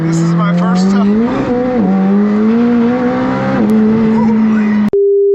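A McLaren 765LT and a tuned McLaren 720S accelerate in a race, their engines rising in a loud, sustained droning howl with gear shifts, close and continuous until an abrupt cut to a steady tone at the end.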